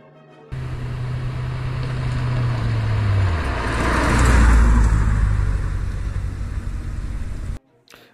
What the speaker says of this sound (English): it is this white Chevrolet Corvette C4